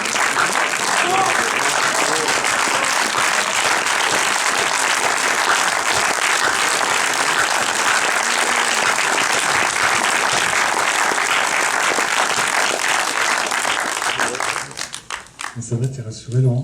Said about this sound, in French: Je ne sais pas qui vous applaudissiez.